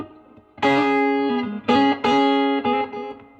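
An electric guitar on its bass pickup plays through a Louis Electric Gattone amplifier, ringing out a few loud, sustained chords with a throaty, slightly driven tone, alone and close.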